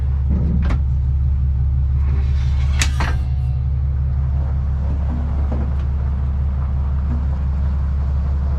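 A truck towing a trailer on a Pullrite Superglide hitch pulls away, giving a steady, loud low engine rumble throughout with a few brief clanks and knocks early on; no one speaks.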